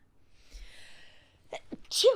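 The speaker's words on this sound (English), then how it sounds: "Hold on, I'm going to sneeze." A person sneezes once near the end, loud and close, after a quiet breathy build-up with a faint sharp inhale; there is no talk.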